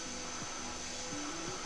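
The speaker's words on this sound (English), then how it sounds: "the vacuum cleaner" A vacuum cleaner runs steadily in the background, a faint continuous whirring hiss with a high steady tone, with brief low tonal sounds passing over it.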